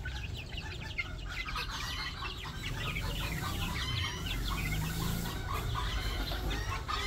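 Chickens cluck and call continuously from a row of coops holding gamefowl, a dense, steady flock chatter close by with no talk.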